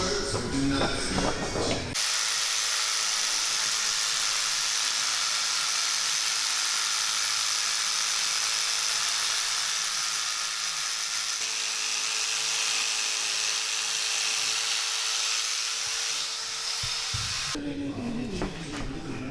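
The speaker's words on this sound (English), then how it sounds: "we're going to take some steam to the actual foam pad, bring some light back into it" A steam cleaner hisses steadily against the foam seat pad of a 1977 Ford F250, a continuous broadband rush lasting about fifteen seconds, with mechanical clicks before and after.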